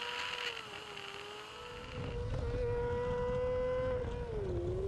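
Racing motorcycle screaming along the Tandragee 100 road-race circuit, a sustained high engine whine that dips and climbs as the bike flicks right then left, loud and close with a rougher roar swelling in the second half.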